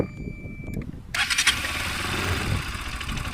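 A motorcycle engine cranks and catches, then settles into a steady, close idle with a rough low rumble that continues alone to the end.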